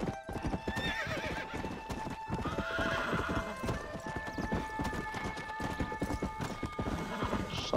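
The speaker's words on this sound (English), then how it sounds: "Posso correr muito com o cavalo não, que ele cansa." Rhythmic clip-clop of a galloping horse in Red Dead Redemption, steady hoofbeats up close, with a neigh and faint game music layered in and someone talking over it.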